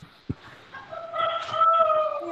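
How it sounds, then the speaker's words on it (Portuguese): A rooster near a home crows once in a drawn-out, rising call, moderately distant in the background after a brief knock, with no talk over it. "Tem um galo!"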